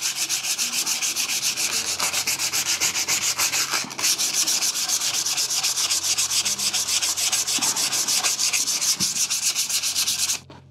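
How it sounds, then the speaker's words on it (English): Folded abrasive rubbed by hand over a rusty metal hand plane, fast, even back-and-forth scrubbing strokes, loud and close, with one brief pause partway through. "Just get a piece, fold it up, start working and keep rotating until you've removed all your rust."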